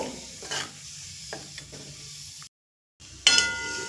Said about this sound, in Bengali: ফোড়নে গোটা গরম মশলা আর দিয়ে দেব গোটা জিরে আর দেব শুকনো লঙ্কা ফোড়নটা একটু ভাজা হতে দেব